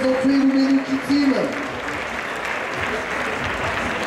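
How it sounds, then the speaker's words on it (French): Audience applause at a Street Fighter 5 team 2v2 tournament final, a broad steady clapping wash from a crowd that carries through the whole stretch, with a voice talking over the first part. "On peut les applaudir"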